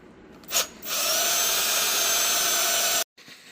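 Cordless drill boring a hole: a short whirr, then a sustained high motor whine under load for about two seconds before cutting off abruptly, close and loud.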